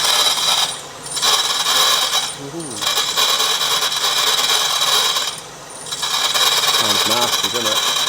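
A drill grinds loudly through a wooden stud in long, rough bursts, pausing twice between runs, with a low voice murmuring near the end.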